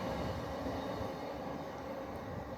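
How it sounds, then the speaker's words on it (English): A class 455 electric train, led by a class 458, passes by as a faint, steady rumble of wheels and running gear, distant and continuous, with no voices. "There's a class 458 leading the train, so they're the oldest class 455s in service."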